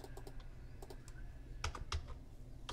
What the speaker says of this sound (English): we're going to have to manually type it in